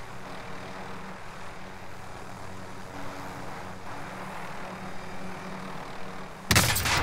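A steady mechanical engine drone runs throughout, like a helicopter flying in a game, ending in a sudden loud burst of noise.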